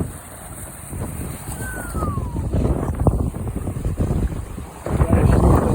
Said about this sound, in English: It's got a nice gust there.